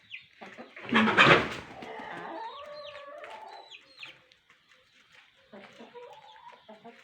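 A rooster moves with hens and chicks in a garden, one loud close squawking burst followed by softer clucks and peeps scattered in short bursts.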